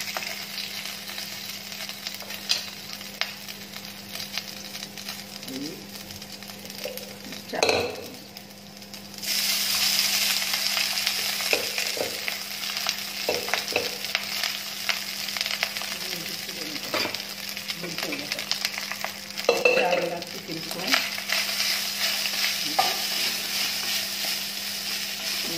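Cumin seeds frying in ghee for dhaba-style rice, a steady hiss and sizzle that swells louder partway through, with clinks and scrapes of a utensil and a faint hum underneath.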